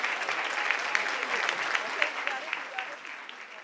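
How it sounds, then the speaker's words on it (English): Gala audience at a hospital heroes awards ceremony giving a round of applause as an honoree leaves the stage, brisk dense clapping that stays even and then thins slightly toward the end. "Let's give Dr. Olaf one more round of applause as she walks off stage"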